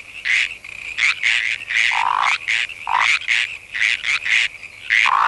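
Cartoon frogs croak loudly in a dense, overlapping chorus of repeated bursts, close and continuous with no talk over them.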